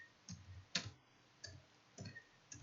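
Laptop keyboard typing, five sparse, quiet key clicks at irregular intervals in a soft room, with no talking.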